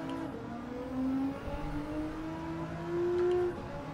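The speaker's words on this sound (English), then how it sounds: "Sounds just like a GTR though." Nissan GT-R engine in Gran Turismo 7 revving and droning steadily, its pitch climbing in two brief louder surges, with no talking.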